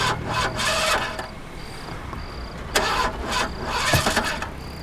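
A car engine failing to start at night by the roadside, with repeated cranking bursts that sputter and die, separated by short pauses and a faint electronic beeping.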